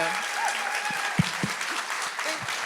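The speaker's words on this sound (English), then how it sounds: "Big round of applause for Gabby Burnham" A BookFest 2024 author-event audience applauds steadily for author Gabriella Burnham, dense clapping filling the room at moderate level with a few sharper claps standing out.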